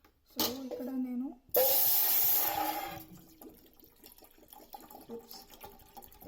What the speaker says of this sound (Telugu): సో ఇక్కడ ఐఎమ్ యాడింగ్ 750 ml వాటర్.